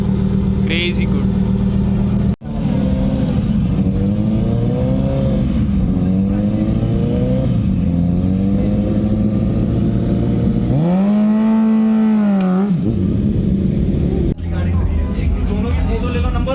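A twin-turbo V10 car engine revs loudly and close, its pitch rising and falling in repeated sweeps with one sharp climb near the end, continuous throughout a car meet with voices talking underneath.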